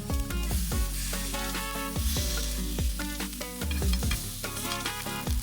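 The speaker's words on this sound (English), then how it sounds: "now we're going to cook our chorizo" A flattened chorizo patty sizzling in a pan, loud steady crackling with repeated metallic clanks and scrapes of a utensil against the pan, no voices.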